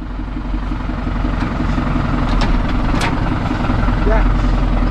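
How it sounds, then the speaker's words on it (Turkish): A tractor engine drives over rough off-road ground, giving a loud, close, continuous throbbing rumble with steady pulsing beats and occasional rattles. "Bu işi aynen traktörle yapacağım."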